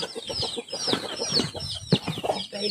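A chicken clucks close by in a rapid run of short, choppy calls, alone and fairly loud, with no talking in the foreground.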